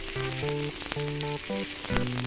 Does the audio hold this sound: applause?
no